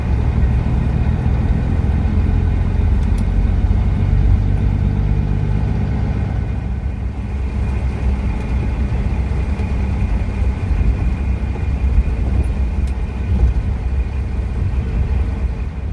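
A 2000 Kenworth W900 truck engine hums while driving, a steady, loud low drone that holds evenly throughout with no talk.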